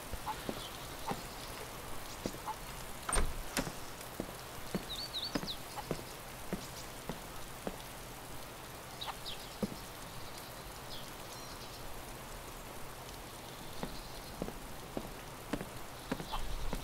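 Rain falls in the video game DayZ as a faint, steady patter with scattered sharper drop clicks throughout. It stays quiet and continuous with no talking.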